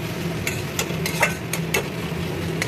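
Vegetables fry in a pan while a spoon stirs them, giving a low steady sizzle broken by sharp scraping clicks at irregular intervals, fairly close and with no voices.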